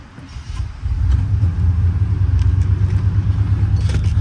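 A Chevy truck's engine rumbles up from quiet to a steady, close, low drone as it pulls out through a gate, running continuously with no talking.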